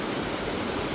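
Cold mountain stream tumbling down from above in a mossy primeval-forest valley on Gariwangsan in Jeongseon, a steady close rush of pouring water with no pauses and no voices.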